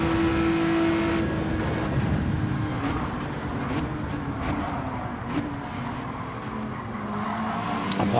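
A race car engine in Gran Turismo 7 drones steadily and loudly throughout, rising and falling in revs as the car accelerates, with no talk over it.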